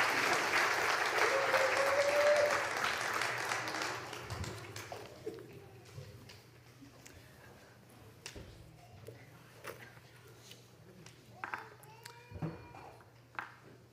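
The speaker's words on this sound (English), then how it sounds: "Let's give another round of applause to thank Corbin." A church congregation applauds during a livestreamed service, loud clapping for the first few seconds that fades into scattered claps and quiet room noise with faint talk.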